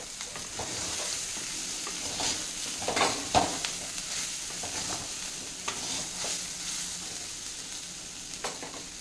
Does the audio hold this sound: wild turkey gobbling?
no